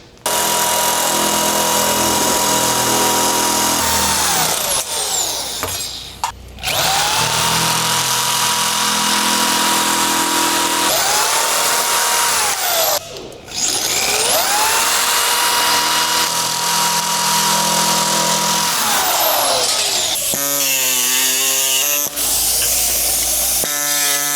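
A power tool cutting out a fuel filler panel shape in a fabrication shop: loud continuous high-pitched whine close by, dipping and rising in pitch as it bogs under load, stopping briefly twice and winding down near the end.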